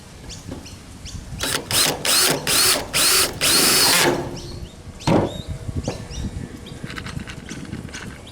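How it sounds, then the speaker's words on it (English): A power drill drives a screw into a Trimdek roof while gutter guard is fitted, giving several loud, close whirring bursts in quick succession, then quieter clanks and rattles. "put another screw in because you're going to need it for your next one"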